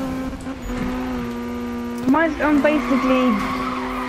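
Tires squeal in a Need for Speed video game as a car drifts, a sustained engine drone breaking into wavering screeches midway, with a voice talking over it.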